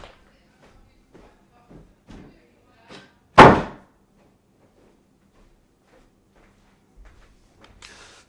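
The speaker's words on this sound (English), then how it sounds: "let me close this door" A door slams shut indoors with a single loud, sharp bang, standing out against a quiet room with faint scattered shuffling before and after.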